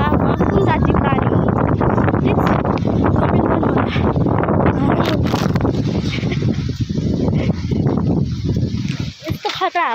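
Strong wind blowing hard outdoors, a steady loud rush buffeting the microphone throughout, with people talking over it.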